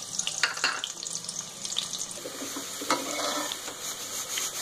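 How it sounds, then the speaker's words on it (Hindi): Onions frying in about half a cup of oil in a pan while being stirred until golden, for a Banjara-style urad dal from Bijnor; a steady sizzle with scraping stirs runs throughout, close and moderately loud. "हम इसमें सबसे पहले प्याज ऐड करेंगे और इसे सुनहरा होने तक भून लेंगे।"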